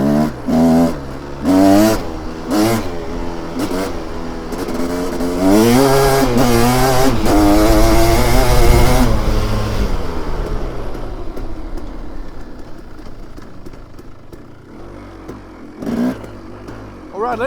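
A KTM 300 two-stroke dirt bike fitted with a Lectron H series carburetor revs and climbs through its gears, the engine note rising in pitch in waves, loud and close, with a rider's whoops and speech over it.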